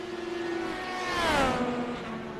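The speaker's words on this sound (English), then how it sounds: "it sounds like actually very low RPMs coming through the corners" A race car engine at low revs sweeps past through a corner, a droning tone that swells and falls in pitch as it passes, mid-distance and steady.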